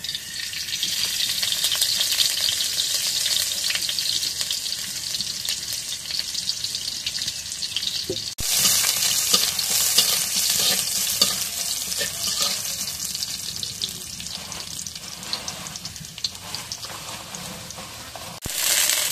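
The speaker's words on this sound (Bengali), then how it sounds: "এখন কড়াইয়ের মধ্যে তেল দিই।" Oil sizzling and frying loudly in a kadai in a home kitchen, a continuous bright crackling hiss with a sharp change partway through as something is stirred or added.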